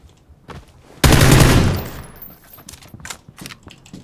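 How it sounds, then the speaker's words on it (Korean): A loud burst of automatic gunfire erupts suddenly in PlayerUnknown's Battlegrounds, a dense close volley that fades over about a second, followed by scattered fainter shots and clatter. "나한테 총을 쏴 이 개자식이"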